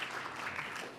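Faint, brief applause from an audience at a Boston poetry event welcoming an educator to the stage, a soft even patter of clapping heard at a distance.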